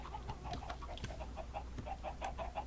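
Many video game chickens clucking in short repeated bursts, a busy overlapping chorus of hens with a steady low hum underneath.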